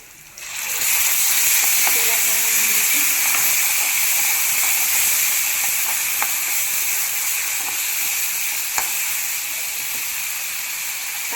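Spice paste for a yellow curry roasts in a hot pan, giving a steady, loud, continuous sizzle and hiss with a few faint clicks throughout.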